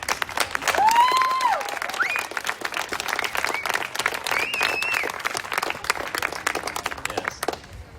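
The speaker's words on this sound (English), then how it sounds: "let's give them a round of applause" A graduation ceremony crowd applauding steadily, dense clapping with a few cheers and whistles, fading out at the end.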